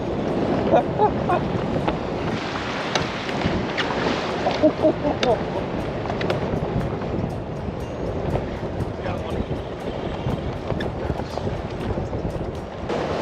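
Rough waves slap and wash against a fishing boat on the windy Detroit River, with steady churning water and gusts buffeting the microphone throughout.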